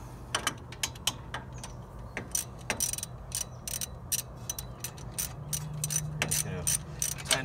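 Hand ratchet snugging wheel hub bolts with an 18 mm socket on a 2005 Dodge Ram 1500, a series of quick close clicking bursts over a low steady hum in a garage.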